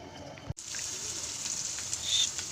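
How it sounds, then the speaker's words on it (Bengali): Potatoes frying in a pan for a morning meal in a home kitchen: a steady, close sizzle starts abruptly after a brief thump and continues evenly, with no talking. "আলু ভাজি বসিয়ে দিয়েছি"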